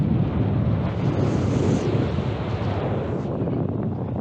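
Strong wind buffets the microphone at Ubehebe Crater in Death Valley, a loud continuous low roar with gusty rumble and no let-up.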